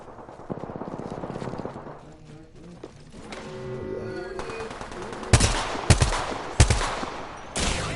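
Apex Legends battle gunfire: bursts of automatic shots and single cracks, growing louder and closer in the second half with several sharp, heavy volleys over a steady din of game noise.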